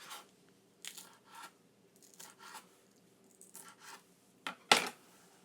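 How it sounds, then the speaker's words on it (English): Fresh vegetables being chopped for a stir-fry, a series of quiet crisp crunching cuts spaced irregularly, ending with a sharper knife strike on the board, with no voices. "You can hear these crunch while I'm cutting them."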